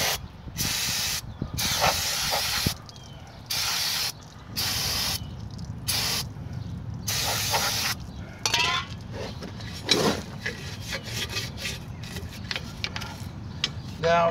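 Brake cleaner sprays in repeated hissing bursts onto the rear brakes of a convertible PT Cruiser, several separate blasts of varying length close by, with a little talk and light metallic clinks between them.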